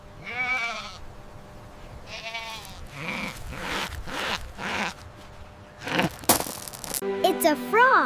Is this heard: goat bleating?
yes